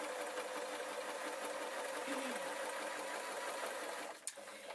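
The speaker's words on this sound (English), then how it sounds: "I'm going to sew round this square" A sewing machine running steadily close by as it sews a velvet cloak, an even motor whir and needle chatter that stops near the end with a sharp click.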